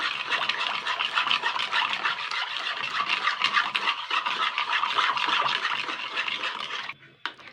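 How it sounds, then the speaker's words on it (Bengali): A metal spoon stirs a sattu drink in a glass, making a fast, continuous scraping and swishing that carries on for about seven seconds, then stops abruptly. "তো আমি এই চামচটা দিয়ে ভালো করে কিন্তু ঘুটে নেব"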